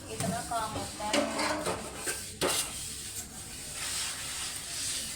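Dishes and utensils are washed and handled at home, with clinks, scrapes and running water close by and a louder clatter midway, under someone talking.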